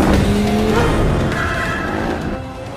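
Car in a film chase scene, loud and close, its engine roaring as the tires squeal and skid in a sustained screech that slowly fades.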